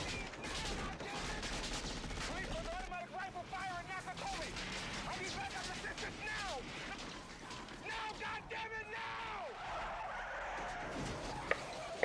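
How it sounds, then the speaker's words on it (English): Gunfire from the film Die Hard, dense bursts of shots mixed with skidding and crashing action sounds, running steadily under people talking over the film. "Finally shooting some shit."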